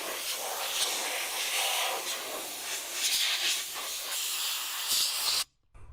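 Compressed air hisses in steady, forceful bursts as it blows dust out of a dirty Dell Precision T3610 desktop computer, running loud and continuous before cutting off abruptly near the end.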